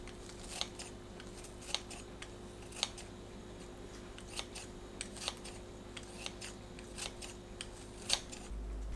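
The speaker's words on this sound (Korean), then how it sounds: "미역을 너무 길거나 크지 않게 잘라주세요." Scissors snip soaked miyeok seaweed in a kitchen, a quiet series of about a dozen crisp, evenly spaced cuts over a faint steady background hum.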